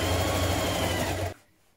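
A sewing machine stitches a trouser hem, making a fast, steady mechanical whir up close that stops abruptly near the end and leaves quiet.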